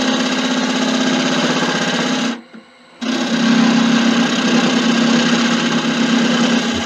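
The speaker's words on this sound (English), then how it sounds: "We'll do it with a gouge, so I can put the pressure going inwards." Wood lathe spinning Malaysian acacia sapwood as a gouge cuts inward, a steady loud whirring hum with a strong low tone, briefly dropping almost silent for about half a second midway before resuming.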